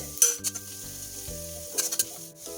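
Coriander powder stirred into frying chana masala in a pan, a close scraping stir with sizzling underneath and a few louder clinks of the spoon against the pot, no voices.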